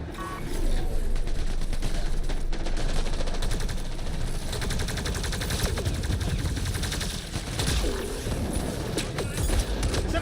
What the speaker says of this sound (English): They're shooting at my fucking ship.